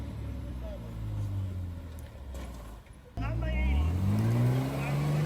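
A vintage 4x4 in a winter off-road jamboree, its engine droning loud and close, then revving higher and straining as it climbs an obstacle, with a voice speaking over it.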